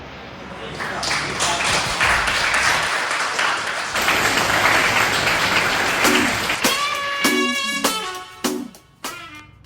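Audience applause and clapping after a talk on the Noyyal river, a dense steady patter that fills the first eight seconds, then thins into a few scattered claps while tonal sounds take over.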